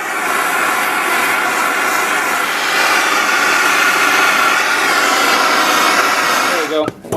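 A loud, steady roaring blast, like a heat gun or torch, heats a heavy double-aught battery cable terminal on a Dodge Ram diesel, running continuously before a brief clatter at the end.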